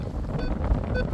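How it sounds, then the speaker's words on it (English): Strong wind buffets the microphone outdoors at an old home site during metal detecting, a continuous loud low rumble with gusty fluctuations and no speech. "Sorry about the wind, it's shocking."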